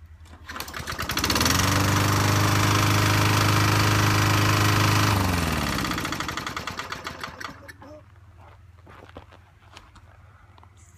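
A lawn mower engine about ten years old, just back from a carburetor jet cleaning, catches after a pull and roars steadily for several seconds, then winds down and sputters out. Faint outdoor clatter follows.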